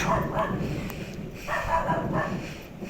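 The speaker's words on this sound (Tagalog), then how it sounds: "pagkadaming aso" Several dogs bark and yip in overlapping bursts, fairly distant and a little muffled, over a rough background noise.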